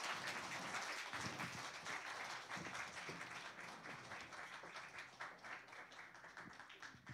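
A crowd at a church praise festival claps enthusiastically in a dense, continuous wave of applause that fades gently toward the end.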